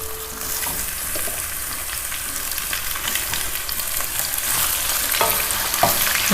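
Chicken fries with browned onions in a pan, a steady moderate sizzle with occasional stirring clatter and scrapes.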